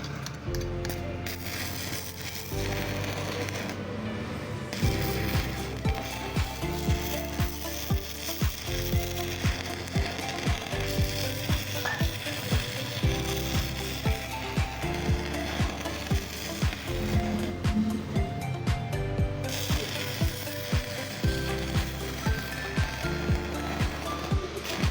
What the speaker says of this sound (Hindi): अभी इसकी जो है ना वेल्डिंग आपको चेक करवाते हैं